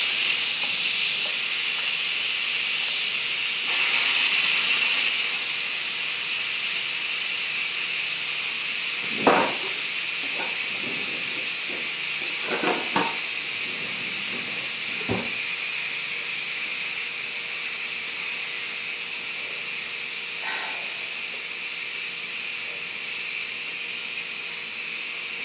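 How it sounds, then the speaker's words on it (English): An Instant Pot vents steam in a quick release, a loud, continuous hiss that stays steady for many seconds, with a few small clicks and bumps over it. "To quick release, if you haven't ever done that, you're just gonna move the vent steam over manually yourself"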